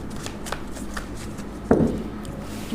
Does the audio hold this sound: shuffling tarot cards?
yes